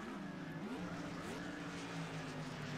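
Race cars in an IndyCar racing video game at Road America scream through an acceleration into the first corner, a dense layered engine whine with rising and shifting pitch as several cars run close together, steady and continuous.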